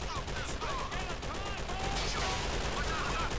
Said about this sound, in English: Shoot the machine gun.